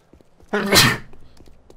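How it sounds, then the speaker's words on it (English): A single sharp human sneeze, loud and close, bursting after a brief quiet lead-in and fading within half a second, during a gaming session. "I'll sneeze."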